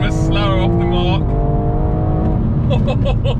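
BMW M4 Competition F82 and G82 cars accelerating in a drag race, with a loud, close engine roar rising in pitch through a gear change and continuing to build, with a voice heard over it.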